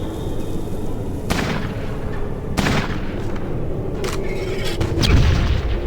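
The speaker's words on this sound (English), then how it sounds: "Ah, that one's got the grenade launcher" Grenade launcher explosions in Fallout Tactics, several sharp booming blasts at irregular intervals over a low rumbling ambience, with a heavier, deeper impact near the end.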